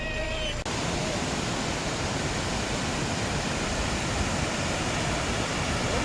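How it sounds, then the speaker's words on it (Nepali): A stream waterfall on a mountain trek pours in a dense, steady roar that fills the whole stretch, loud and constant, with a faint voice barely audible at the very start. "यहाँ त एउटा खोला नै झर्ना भएको छ। बबाल झर्ना देखिन्छ।"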